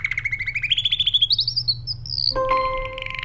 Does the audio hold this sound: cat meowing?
no